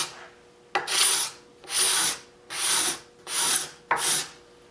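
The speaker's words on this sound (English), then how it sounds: "you can come along with a scraper and get in there, clean that epoxy, no problem" A hand scraper takes epoxy glue off a wood butcher block countertop in five rasping, evenly spaced strokes, close up and fairly loud, with short quiet gaps between them and no talking.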